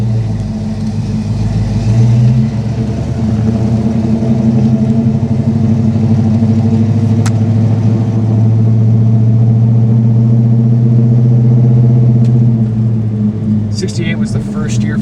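A 1968 Pontiac GTO H.O. hardtop engine rumbles low and steady as the car drives, a continuous deep drone with a few faint clicks and a voice now and then.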